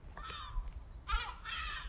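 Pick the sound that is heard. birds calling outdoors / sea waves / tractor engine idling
birds calling outdoors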